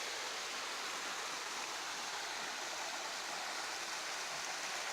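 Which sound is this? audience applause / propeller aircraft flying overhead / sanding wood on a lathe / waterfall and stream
waterfall and stream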